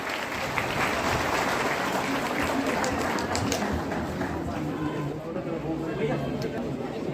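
Audience applause at a teachers' honour ceremony in Bhanpuri, Bastar: sustained, dense clapping from a large crowd that carries steadily throughout, with faint voices mixed in.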